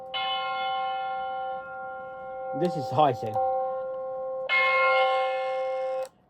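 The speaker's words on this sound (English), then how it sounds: "Then I added like a church bell or something." A synthetic bell-like chime rings in sustained harmonic bursts, with a short spoken phrase between them; fairly loud and close.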